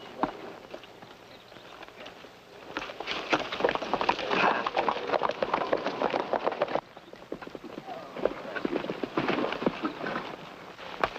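A horse runs in a Western setting, dragging its thrown rider; quick hoofbeats rumble fairly loud and steady, with a brief pause partway through.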